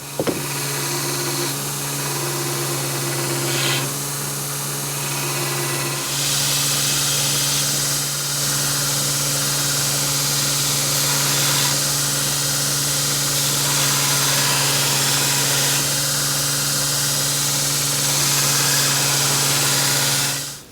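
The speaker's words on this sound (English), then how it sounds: "I put a good new sharp 36 grit on the grinder" Belt grinder running a new, sharp 36 grit belt while shaping a knife blade and handle, a steady loud motor hum with strong tonal drone and broadband grinding hiss that swells and shifts as the steel is pressed to the belt.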